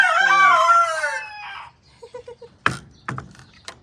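A rooster at a local chicken farm crows loudly and close by. Soft clucks and a few sharp knocks follow.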